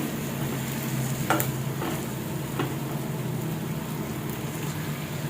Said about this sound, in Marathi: तर आता बघू शकताय मसाल्यामध्ये मी छानपैकी हे वांगा असं परतून घेतले.